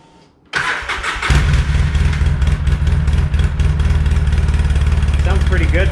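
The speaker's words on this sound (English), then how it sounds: "Now we'll fire it up. You guys can hear what it sounds like. This is a cold start" A stock ATV with a stock exhaust cold-starts in a shop after sitting a few nights: after brief quiet, the starter cranks and the engine catches, then settles into a loud, steady, throbbing idle close to the microphone.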